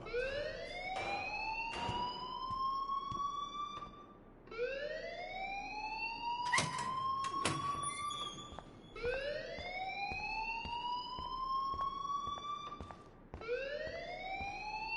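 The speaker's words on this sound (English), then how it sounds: "please turn off that alarm since that's your job" Electronic alarm from the Life is Strange video game, rising whooping sweeps repeating about every two to four seconds, loud and continuous with brief sharp clicks between cycles and no talk.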